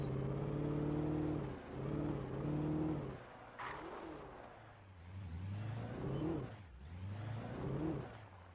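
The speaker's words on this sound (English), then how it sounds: "Now I'm driving the car from Drive." A car engine hums inside the Alan Wake video game, a steady tonal drone that swells and dips as the vehicle accelerates and eases off. It is moderately quiet and heard alone, without talk.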